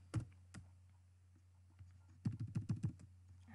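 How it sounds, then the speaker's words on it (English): Quiet typing on a computer keyboard, a couple of isolated key clicks followed by a quick cluster of about six taps near the end, close and soft with a low steady hum underneath and no talking. "then we'll type some content"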